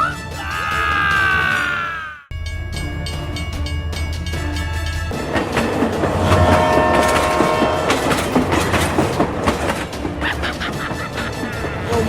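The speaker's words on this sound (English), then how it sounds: "Oh my God, train!" A train horn blares loudly, then a passing train rumbles and clatters steadily close by, its wheels clicking rhythmically over the rails for several seconds.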